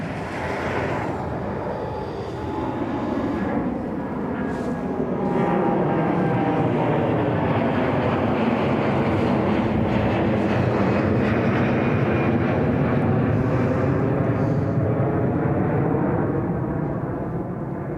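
An Air Transat A330 jet airliner at Toronto airport produces a loud, sustained engine roar that swells and holds, a broad rumbling whine with no talk.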